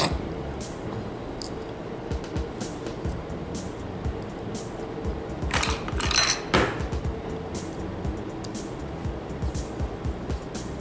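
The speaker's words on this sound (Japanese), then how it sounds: "こんな感じで上下のキャブレターをネジで留めてくっつけてあげる。" Small screws fasten the upper and lower halves of a scale-model carburetor for a Celica LB 2000GT engine kit, giving faint, close ratcheting clicks and tiny plastic-and-metal handling sounds, with a brief rattling burst midway.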